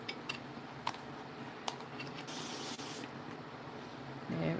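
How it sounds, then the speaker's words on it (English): A handheld spray bottle mists water onto painted rocks to activate chameleon paint, giving one long hissing burst lasting under a second, preceded by a few faint clicks and small taps. "activate the paint if I could find my spray bottle."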